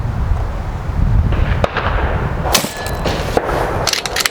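Shots from a Kral or Hatsan PCP airgun crack sharply against an outdoor target, several distinct snapping reports spaced irregularly over a steady background rumble.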